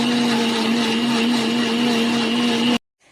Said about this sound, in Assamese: এতিয়া মই মিক্সিত ভালকৈ মাৰি ল'ম।